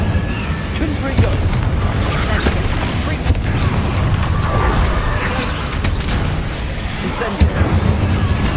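Fiery spell blasts from Hogwarts Legacy, a Confringo burst amid Incendio casts, land as repeated booming impacts over a dense, continuous roar of game effects and rumble, with sharp transients scattered throughout.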